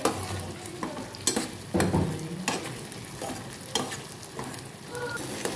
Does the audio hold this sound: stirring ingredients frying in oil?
yes